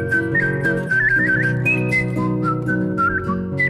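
A person whistles a lively melody in the upper register, the sustained tones sliding between notes, heard over a dense backing of other sounds with no speech.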